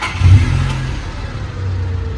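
A manual car's engine turns over and catches, then revs with a low, steady rumble that holds close and loud for a couple of seconds.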